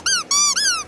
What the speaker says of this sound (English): soft plushies with one squeaky inside, as well as crunchy ears.